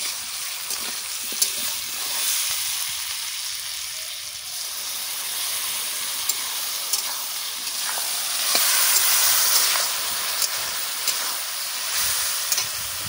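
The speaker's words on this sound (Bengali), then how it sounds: "এখন এগুলো দিয়ে দেবো কড়াইয়ের মধ্যে" Spice paste mixed in water poured into a hot kadai for a jackfruit and prawn curry, a broad, steady sizzle and hiss with occasional stirring clicks, loud and close, no voices.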